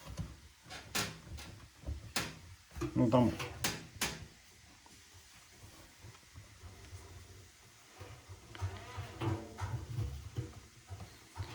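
An Atlant washing machine drum, creaking since its second wash only days after purchase, is rocked by hand: several sharp creaks and knocks come in a burst early on, with someone talking close by for most of the time.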